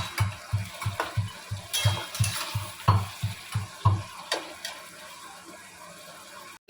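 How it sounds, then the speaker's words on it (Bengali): Chicken pieces fry in a wok while being stirred, giving a rhythmic series of scraping stir strokes over a bright, continuous sizzle, loud and close, before it stops abruptly. "এবার আস্তে আস্তে একটু ভাজতে হবে।"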